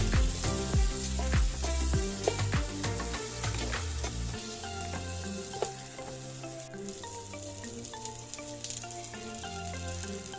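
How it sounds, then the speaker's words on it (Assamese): Steady sizzling of onions frying in a pan, a continuous crackle with occasional louder pops and stirring clicks, close and without any talking. "এইখিনি অকমান দেৰিলৈকে ভাজিম যেতিয়ালৈকে অকমান কোমল হৈ নাযায়।"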